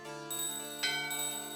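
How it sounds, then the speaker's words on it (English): A shop bell in Final Fantasy IX rings with a bright, sustained metallic tone, then a second strike, clear and moderately loud with a lingering ring. "Oh, I want to ring the bell."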